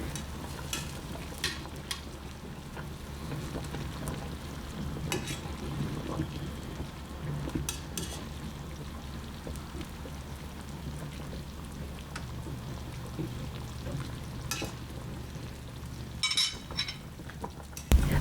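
Chicken meat boiling in a pot of water, heard as a steady close bubbling and simmering hiss with occasional light clinks, running continuously.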